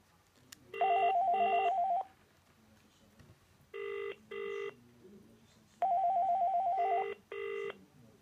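Ringing on a Panasonic NCP500 phone system comes in a repeating pattern of paired electronic ring bursts, clear and steady, with short pauses between each cycle.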